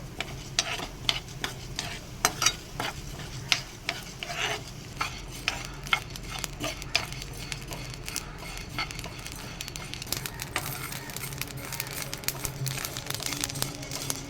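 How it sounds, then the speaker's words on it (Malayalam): Dry rice grains rustle and scrape in a pan as they are roasted and stirred, a steady gritty shuffle with frequent sharp clicks of a spoon. "ഇത് നല്ലതുപോലെ വറുത്ത് മൊരിച്ചെടുക്കണം"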